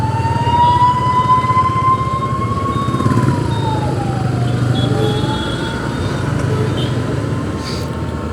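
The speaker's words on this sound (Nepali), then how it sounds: "बाटो छोड एम्बुलेन्स आयो" An ambulance siren wails loudly through a busy Hetauda street, its steady tone dipping and rising as it passes close by amid constant traffic rumble.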